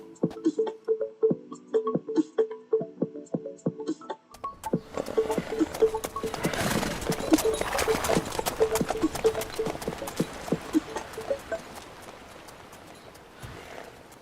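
Horse hooves clip-clop in a steady, close rhythm in the Witcher 3 Wild Hunt video game, then blend into a denser, louder wash of galloping and ambient noise before fading.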